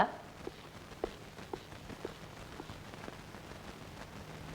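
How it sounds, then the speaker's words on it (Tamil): Steady rain falls outdoors as a soft, continuous hiss, with a few faint taps and knocks scattered through it at moderate distance. "வெளியில மழை வேற பெஞ்சிட்டு இருக்கு."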